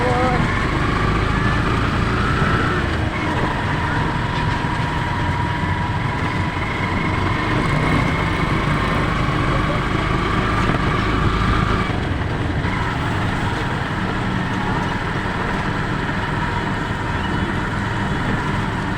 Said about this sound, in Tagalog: Traffic na po.